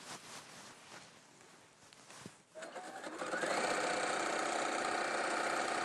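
A sewing machine stitches a quarter-inch seam around pieces of fabric, its motor starting softly and then settling into a loud, steady, fast whirring hum that continues to the end.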